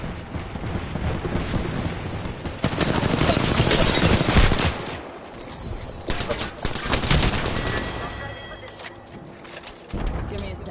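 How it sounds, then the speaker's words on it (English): Apex Legends knuckle cluster fire sounds as a loud, sustained crackling volley of rapid bursts and booms, then thins into scattered pops, with a voice talking over it in places. "Stand back, knuckle clusters firing."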